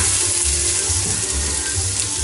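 Onions dropped into hot oil in a pan sizzle loudly and steadily up close, a broad crackling hiss that fills the whole moment with no talking.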